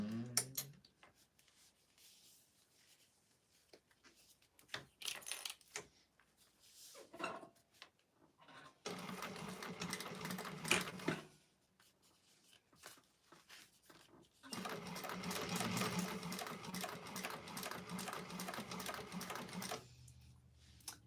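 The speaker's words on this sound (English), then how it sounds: "we're going to go ahead and top stitch along the top there" A sewing machine topstitches the exterior of a bowler bag in two long steady whirring runs, preceded by short bursts and handling noises, with occasional talking in the quieter stretches.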